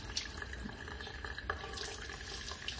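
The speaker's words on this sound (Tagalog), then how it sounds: "Kaya nga pag nilagyan mo ng tubig to, dapat may lalabas yan." Water pours from a passage in a carburetor body during cleaning checks, a steady close splashing flow like a running tap, without talk.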